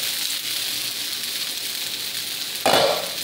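Food sizzling on a makeshift stove with the oven out, a steady close frying hiss that swells louder near the end as something is stirred or added.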